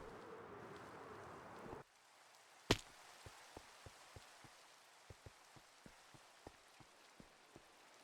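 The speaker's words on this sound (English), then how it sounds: "It's just raining." Steady rain patters down in Minecraft as dense hiss at first, then drops to a quieter wash with one sharp loud crack followed by a string of faint, evenly spaced soft ticks.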